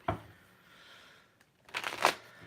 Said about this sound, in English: I need to get some more shuffles here